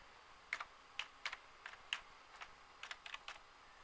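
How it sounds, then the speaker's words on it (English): Someone types on a computer keyboard, a faint, irregular run of light clicking keystrokes in short bursts with small pauses between, heard alone in a quiet room. "so I can type it into here"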